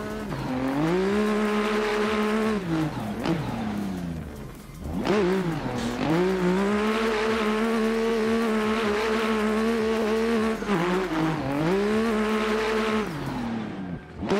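A Nissan Z race car lapping in a racing video game, its engine loud and close, holding high revs through long pulls with sharp drops at each gear change or braking, plus brief tire squeal.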